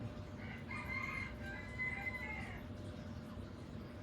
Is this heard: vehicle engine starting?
no